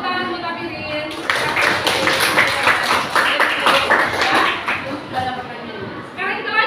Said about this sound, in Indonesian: Oke, tepuk tangan buat Apirin.